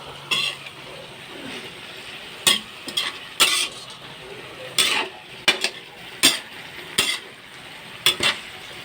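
Pancit canton with bihon being stirred in a pan, with repeated sharp scraping clatters of a utensil against the pan over a faint, steady sizzle of frying.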